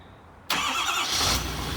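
A 2019 Ford F-250 diesel truck engine catches after a quiet moment, jumping abruptly to a loud, steady rumbling run close by, with no talking.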